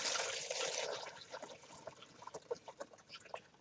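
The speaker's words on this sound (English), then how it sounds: "I'm going to pour out the top layer." Liquid is poured out of a kitchen container, starting as a hissy rush and then breaking into soft, irregular glugs and drips, quiet and close.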